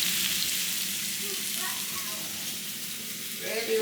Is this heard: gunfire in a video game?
no